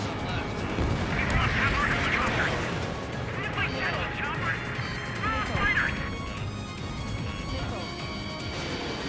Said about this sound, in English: Missile launched. Missile hit.